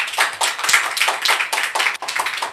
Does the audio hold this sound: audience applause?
yes